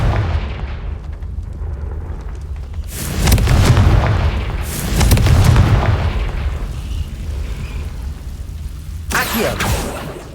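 Confringo fire spell blasts in Hogwarts Legacy, two deep booming explosions close together, then a smaller burst near the end, all loud and near.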